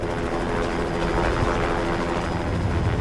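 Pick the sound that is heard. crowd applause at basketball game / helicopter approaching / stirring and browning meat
helicopter approaching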